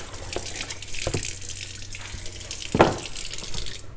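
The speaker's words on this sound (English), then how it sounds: "I'm gonna just rinse this out." Tap water runs into a sink as a freshly butchered chicken is rinsed, a steady close splashing stream with a few louder splashes and clunks.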